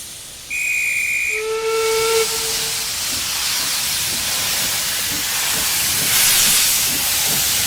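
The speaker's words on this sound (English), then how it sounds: "This is our weed-killing train." A steam weed-killing train gives a sharp two-part whistle, one high tone and then a lower one. A loud, steady hiss of escaping steam follows and carries on without a break.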